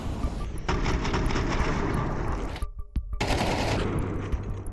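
Desert Eagle pistol fire in Counter-Strike 2 during a BLAST Premier Fall Groups 2024 esports match, a dense burst of loud gunfire shots with a brief lull, over crowd and game noise.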